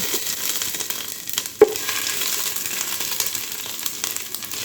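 Whole cumin seeds and crushed ginger fry in hot oil with chili and bay leaf, making a steady, close, bright sizzle with one sharp crackle partway through.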